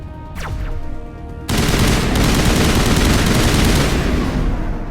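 Sustained gunfire from the Mass Effect video game, a dense burst that starts abruptly about a second and a half in and continues loudly to the end, preceded by a quieter whooshing passage.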